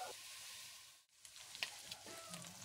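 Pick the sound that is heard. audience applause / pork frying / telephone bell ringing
pork frying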